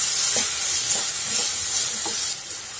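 Peas and a spoonful of salt being stirred into brinjal bharta mash in a hot pan, a steady frying sizzle with soft periodic scraping strokes of the spoon, close and continuous with no talk.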